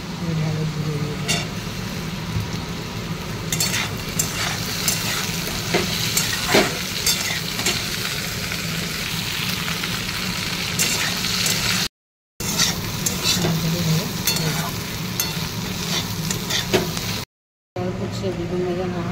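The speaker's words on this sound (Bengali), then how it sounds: "আলু ঢেঁড়স আলু ভাজা হবে" Potatoes and okra fry in a pan with a steady, close sizzle and the scrape of stirring running throughout, broken by two brief gaps.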